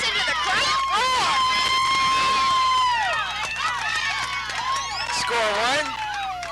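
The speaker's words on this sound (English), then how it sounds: "Listen to the crowd roar." Spectators at a children's Optimus Club T-ball game shout and cheer after a hit into the outfield, a lively outdoor mix of high excited children's and adults' voices, with a commentator talking over it.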